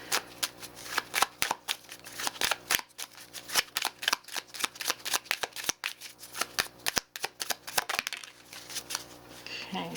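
Deck of advice cards shuffled during a pick-a-card reading: a rapid run of crisp riffling flicks and slaps, close and continuous for several seconds, ending in a softer rustle.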